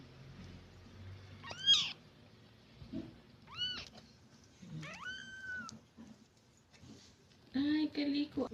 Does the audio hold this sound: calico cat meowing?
yes